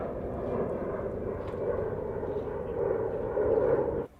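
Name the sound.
airplane taking off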